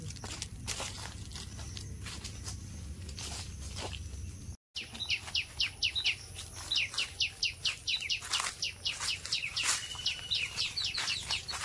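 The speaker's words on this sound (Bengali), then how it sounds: "পাখির আওয়াজগুলো শুনতে পাচ্ছেন?" Birds chirp and sing in a village mango orchard, with repeated bright calls that grow busier and denser in the second half, alongside occasional footsteps and rustling close by and a steady low rural background.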